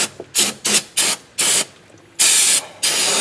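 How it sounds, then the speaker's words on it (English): Short bursts of brake cleaner sprayed from an aerosol can onto the oil filter area of a car during an oil change, loud, close hisses in a choppy series of about seven blasts, the last ones longer, with no talking. "I'm just going to spray this down with a little brake clean."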